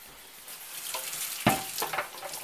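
Water is swished around inside the jar of an Optimum 9200 high-speed blender for a quick rinse, a short sloshing burst that peaks midway.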